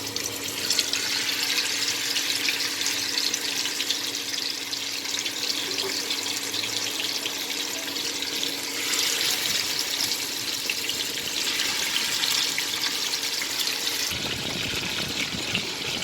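Hilsa fish pieces rubbed with turmeric and salt fry in hot oil, giving a continuous, fairly close bright sizzling hiss that shifts in texture a couple of times, with no voices.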